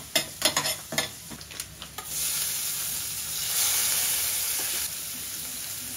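Cumin and mustard seeds crackle in hot oil, a few sharp pops at first giving way to a steady, loud sizzle that holds to the end.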